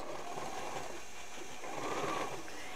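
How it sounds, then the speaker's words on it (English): A sewing machine runs steadily while stitching along the marked lines of a quilt block, its fast whirring drive holding an even pace at close range with no talking. "Now we're going to stitch right on the lines."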